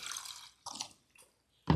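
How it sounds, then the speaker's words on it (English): Water poured into fuel in a boat's water-separating fuel filter, a few short splashy trickles separated by pauses, ending in a louder splash. "I'm going to put some water in there"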